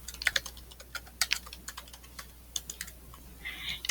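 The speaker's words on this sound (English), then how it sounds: "And then I'm going to type the name of my teacher." Someone types at a computer keyboard while filling in a Google Docs research draft. The keystrokes come in quick, uneven bursts, close and clear, with a short rattling flurry near the end and no voice.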